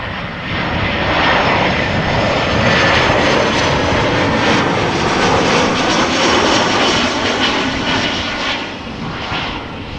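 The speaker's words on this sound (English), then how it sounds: "This A320-200 is 7 years old, had its first flight in April 2016." An Airbus A320-200 jet airliner at Amsterdam Schiphol Airport gives a loud, steady engine roar that stays strong from start to finish, easing off slightly in the last moments, with no voices.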